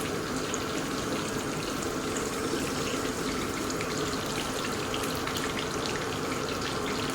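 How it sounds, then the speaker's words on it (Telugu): Tamarind juice poured into salted fish curry frying in a pan, a steady, continuous watery hiss and sizzle running close and even throughout, with no voices. "ఇప్పుడు చింతపండు పులుసు వేస్తున్నాను"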